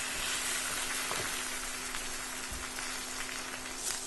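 Steak frying in a pan with its fat edge turned down, a steady close crackling sizzle with scattered pops, continuous and fairly quiet throughout.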